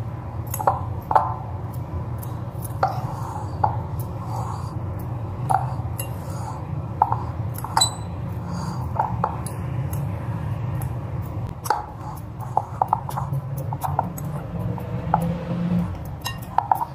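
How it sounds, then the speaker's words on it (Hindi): Cutlet mixture seasoned with white and black pepper being stirred in a bowl, with repeated soft clinks and scrapes of a utensil against the dish over a steady low background hum. "अब हम इसको मिक्स कर रहे हैं।"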